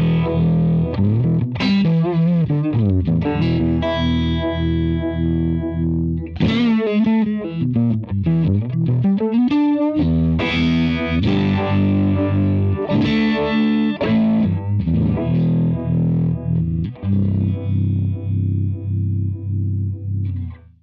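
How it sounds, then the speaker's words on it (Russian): Electric guitar running through an EarthQuaker Univibe modulation pedal placed before a Wampler Plexi Drive overdrive, giving loud, continuous driven chords and notes with a throbbing, swirling chorus-like wobble, played alone with no talking. "И теперь я включаю модуляцию, стоящую перед плексидрайвом."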